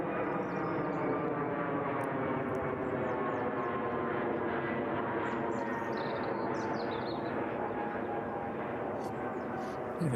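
Boeing 747 passing overhead at East Midlands Airport in the evening, a loud, steady broadband jet roar with sustained engine tones, with faint bird chirps above it.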